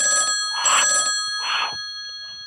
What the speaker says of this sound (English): The telephone's still ringing.